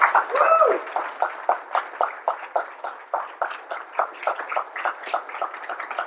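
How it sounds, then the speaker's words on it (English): A small audience gives a speaker a round of applause at a talk introduction, individual claps clearly separated in a quick, slightly uneven rhythm, close and moderately loud, with a brief whoop or voice at the start. "So, give him a round of applause."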